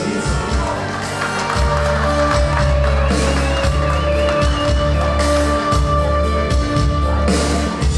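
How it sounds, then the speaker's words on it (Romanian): Wedding crowd applauding and cheering the newlyweds at the opening dance, loud whoops and clapping over a steady pounding band beat. "Aplauze pentru tinerii căsătoriți!"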